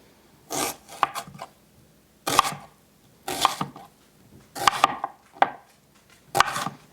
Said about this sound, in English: first thing we need to do is cut our onion